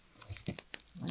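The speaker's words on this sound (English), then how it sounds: "You just peel that right off, and the glue on the back goes right there." A craft sticker is peeled from its glued backing, giving a faint, close crackling and tearing sound in quick light bursts with no talk.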